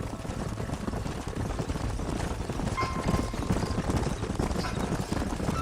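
Horses clip-clop at a steady walk through a canyon in Red Dead Redemption, a quiet, continuous run of hoofbeats over low ambient game sound.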